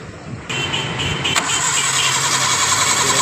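A Suzuki Cultus with a starting fault cranks loudly and steadily after a brief quiet lead-in, the starter's whirring drone continuing without the engine catching, close and unbroken to the end.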